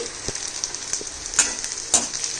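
Onions frying in a pan, giving a steady, close sizzle with faint crackles and a couple of brief stirring clicks, no talking.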